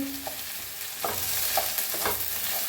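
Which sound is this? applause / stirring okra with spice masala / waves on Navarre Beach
stirring okra with spice masala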